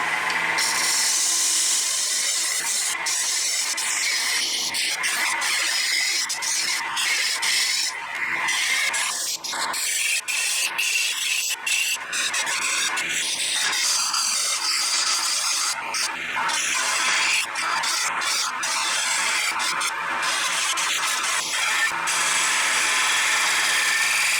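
A wooden chalice spins on a lathe while a turning tool cuts into it, giving a continuous loud, rough scraping whir with frequent small ticks and chatter throughout.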